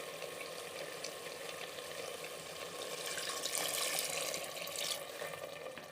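Steady, quiet sizzling and bubbling of mutton cooking with water added in a pot, a continuous soft hiss with no talking.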